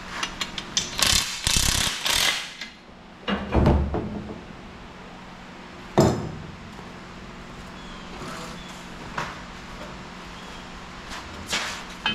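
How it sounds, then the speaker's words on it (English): A ratcheting speed wrench turns a bolt on an old tractor part being reworked into a dust sprayer, giving loud clustered ratchet clicks and metallic clanks early on, then sparser clicks and a sharp knock over a quiet workshop background. "Let me break out the Mississippi speed wrench"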